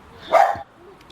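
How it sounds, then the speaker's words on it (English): A single short bark from a dog nearby, fairly loud and sharp, followed by quiet room noise. "Yes, that's my dog. She's barking right now."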